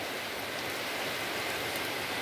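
Heavy rain falls steadily in a village, a dense continuous hiss with no pauses or voices.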